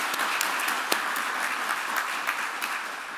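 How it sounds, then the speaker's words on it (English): An event audience applauds its speakers with a sustained round of many hands clapping, moderately loud and even, a few sharper individual claps standing out, with no speech. "So a round of applause."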